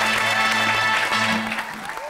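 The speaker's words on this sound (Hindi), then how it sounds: "तालियां होनी चाहिए इनके लिए।" Audience clapping for performers on stage during a comedy show, a short burst under tonal background sound, tapering off after about a second and a half.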